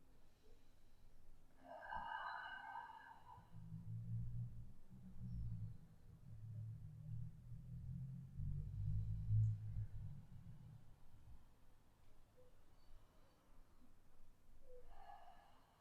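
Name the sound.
slow breathing during a stretching exercise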